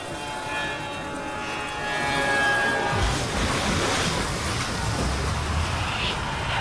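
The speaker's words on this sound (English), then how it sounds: "Plane crashing, Jack coming to Rapture." In the game Bioshock Infinite, a plane crashes: a steady, whining hum gives way to a loud, broad roaring rush that keeps going, with no voices over it.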